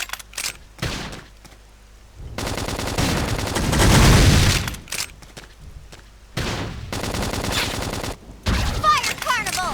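The Fire Carnival gunfire attack in Xenoblade Chronicles X Definitive Edition on Nintendo Switch: a sustained barrage of rapid shots in the middle, between shorter bursts of loud combat sounds.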